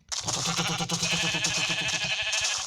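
Sheep in Minecraft bleat in quick, close, wavering calls that overlap one another, loud and repeated across a few seconds with no talking.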